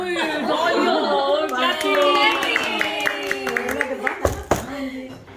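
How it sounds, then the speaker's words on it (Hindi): Hands clap in a quick burst at a family gathering with cake and chocolates, set close and loud among overlapping chatter, with voices talking throughout. "तालियां।"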